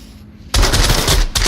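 Burst of rapid automatic gunfire in the VR shooter game Onward, a dense continuous rattle kicking in after a quiet half-second and running loud to the end.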